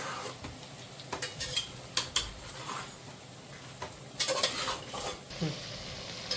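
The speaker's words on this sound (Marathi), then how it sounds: "हा पुदिना हे सगळं व्यवस्थित असं मिक्स करायचं" Mint, chopped tomatoes and masala stirred together in a pot for chicken and masoor pulao, with a steady low sizzle under sharp intermittent scrapes and clinks of the spoon against the pot, no voices.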